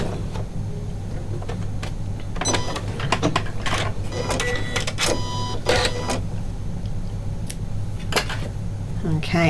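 A Janome sewing machine stitches pintucks through a cord guide, a steady mechanical whir with rapid rhythmic needle clatter running throughout, close and fairly loud, with a voice talking over it.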